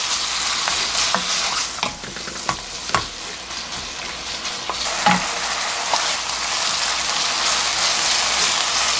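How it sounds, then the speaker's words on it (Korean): Duck bulgogi in gochujang sauce stir-fried over high heat, a loud, dense, continuous sizzle with scattered clacks of stirring and tossing, close up and alone. "센 불에 볶아줄게요"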